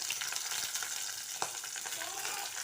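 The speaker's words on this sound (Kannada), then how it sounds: "ಒಂದು 2 ಗೆಡ್ಡೆಯಷ್ಟು ಬೆಳ್ಳುಳ್ಳಿ ಫ್ರೈ ಆಗಬೇಕದು" Garlic and green chillies fry in a pan, a steady dense sizzle filling the whole stretch with a few faint clicks and a brief scrape, close and continuous with no talking.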